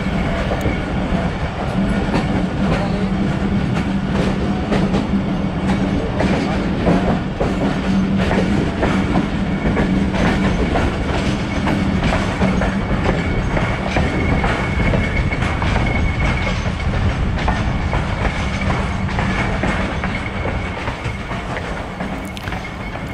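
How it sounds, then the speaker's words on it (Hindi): The 130 Down Thal Express, a train of seven or eight carriages on the Rawalpindi to Multan run, pulls away from Kundian after a long stop, giving a loud, continuous rumble with clattering wheels throughout. "130 डाउन थाला एक्सप्रेस इसको छोड़ के आगे बढ़ रही"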